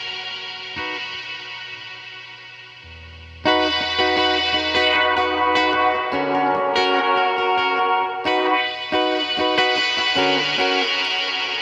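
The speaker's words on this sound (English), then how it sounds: "It's just the frequency of the reverb" Harsh reverb effect on a guitar or synth tone from a Death By Audio Rooms pedal, sustained distorted chords washing into a bright, metallic, echoing tail, jumping louder partway through, with no voices.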